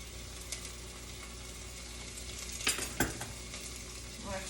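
Basil stirred into homemade marinara sauce in a pan, a soft steady simmer and sizzle with a few clinks and scrapes of a utensil against the pan.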